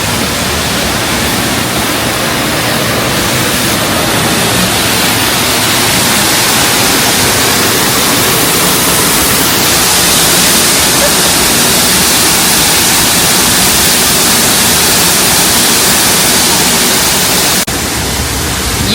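An Ohio waterfall pours in a loud, continuous broadband roar that stays steady and close throughout, with no voices.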